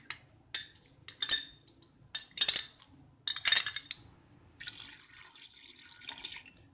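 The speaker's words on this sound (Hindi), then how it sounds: "पानी हमने डाल दिया है इतना कि गोश्त गल जाएगा।" Water poured into a pressure cooker holding meat, spices, onion and garlic-ginger paste, heard as several short splashing pours with brief pauses, then a softer steady trickle, close and fairly quiet.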